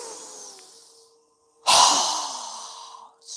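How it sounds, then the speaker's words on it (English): During yoga breathing, a person lets out a strong, open-mouthed exhale: a loud, breathy rush that starts abruptly and tapers off, then a short puff follows, after a quieter breath before it. "exhale, lowering our hands with our mouth open wide with a strong exhale"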